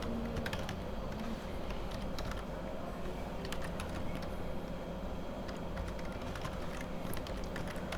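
An email address being typed on a computer keyboard: quiet, irregular key clicks in small bursts over a low background hum, with no talking.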